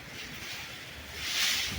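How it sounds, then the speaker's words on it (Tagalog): Strong hurricane wind roars steadily with rain, a broad rushing wash that swells louder toward the end, close and unbroken with no talk. "The wind is getting stronger."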